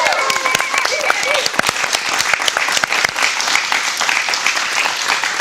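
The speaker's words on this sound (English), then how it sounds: "Can we already get a round of applause for them?" A crowd applauding the crew at a live stream, dense sustained clapping with a few voices mixed in, loud and close throughout.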